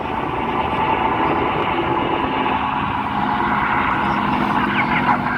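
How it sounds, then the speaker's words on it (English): Aircraft engines drone loudly and steadily at a Pearl Harbor air raid reenactment, a sustained propeller-plane roar with no speech over it. "Listen to the roar of the engine, the sound of the air raid sirens and gunfire"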